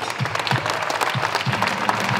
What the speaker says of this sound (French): Juste avant, je voudrais qu'on applaudisse tous les candidats,